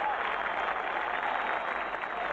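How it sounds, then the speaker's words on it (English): A golf gallery stands and applauds Raymond Floyd after a birdie, a dense and steady burst of clapping with crowd noise mixed in, heard on its own. "No wonder they are standing and applauding Raymond Floyd."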